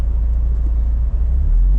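A Porsche 944 engine, rated at 163 horsepower, drones in a loud, steady low rumble while the car climbs the Col de la Luère, heard from inside the cabin with no talk.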